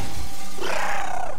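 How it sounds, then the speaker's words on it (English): Glass shattering from a laser shot in the tactical video game Xenonauts, a loud, brief burst of breaking glass with a roaring crash that fades quickly. "Glass is no match for lasers."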